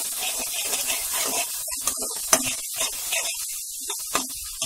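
Masala for chole sizzles and crackles as it roasts in a pan while being stirred, a steady close frying hiss with small scraping rubs and occasional sharper pops, no voices.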